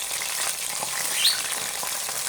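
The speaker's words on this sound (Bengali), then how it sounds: "এই চিকেন পাকোড়া ভাজা শেষ, এখন তুলে নেব।" Chicken pakora frying in hot oil, a steady close bubbling sizzle with faint crackles and a brief scrape partway through, no voices.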